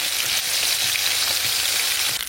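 A fish head frying in hot oil gives a loud, dense, continuous sizzle with crackling pops, steady throughout and heard alone without talk.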